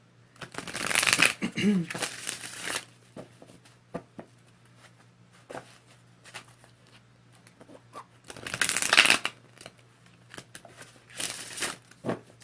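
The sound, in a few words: tarot cards being shuffled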